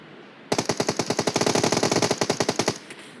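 Automatic weapon fire in PUBG Mobile, a rapid, loud burst of roughly two dozen evenly spaced shots lasting about two seconds, with no voices.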